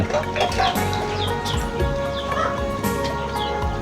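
Chickens cluck and squawk close by on a rural homestead, with overlapping calls of varying pitch and short bursts of farmyard noise in the background.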